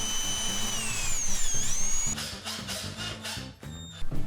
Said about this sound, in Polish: Zaznaczyłem gdzie wiercić, zrobiłem otwory i zamocowałem pierwszą blaszkę.